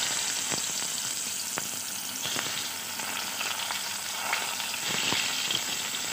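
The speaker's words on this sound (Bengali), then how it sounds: "এখানে আমি আমটা ভেজে নেব।" Raw mango pieces fry in a pan, giving a steady close sizzle with scattered crackles and pops throughout.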